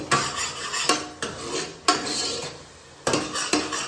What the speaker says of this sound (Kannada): ಇವಾಗ ಇದನ್ನು ಹಸಿ ಸ್ಮೆಲ್ ಹೋಗೋವರೆಗೂ ಚೆನ್ನಾಗಿ ಫ್ರೈ ಮಾಡೋಣ